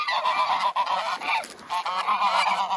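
Geese honking on ice, a close, loud chorus of repeated nasal honks overlapping continuously with one short lull partway through.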